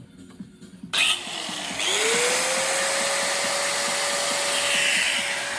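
An angle grinder is cutting metal for an exhaust manifold on a 1UZ V8 swap into an MX-5. It spins up with a rising whine and then holds a loud, steady high-pitched grind close by.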